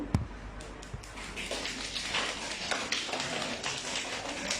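A crowded audience in a hall rubs and pats their hands to imitate rainfall, making a dense, even patter and hiss that builds steadily after a few sharp opening taps.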